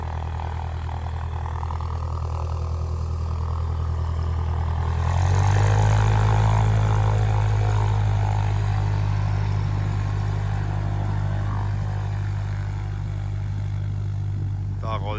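A small propeller plane's engine drones steadily as it taxis at an Alaska airfield, its note rising and growing louder partway through and holding a low throbbing hum throughout.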